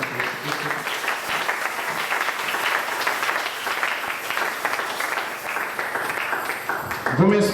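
A church congregation applauds steadily, dense overlapping clapping filling the room for several seconds, with a voice rising briefly at the end.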